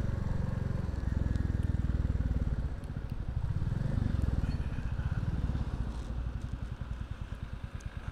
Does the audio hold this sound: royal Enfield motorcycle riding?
yes